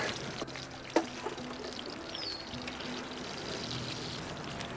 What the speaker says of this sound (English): I've got to add a little bit of milk.